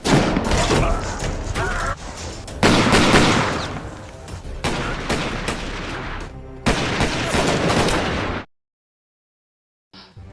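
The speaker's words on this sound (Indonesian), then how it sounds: "satu persatu mereka menembak pertahanan Draco yang kala itu tak menyadari kalau mereka sed" Gunfire in a film shootout: dense rapid bursts of shots and heavy impacts, loud and continuous for about eight seconds, then sudden silence.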